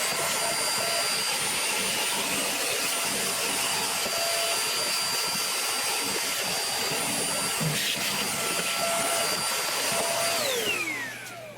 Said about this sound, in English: what I like to do is take a small vacuum